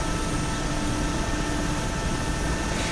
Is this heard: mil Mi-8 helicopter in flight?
yes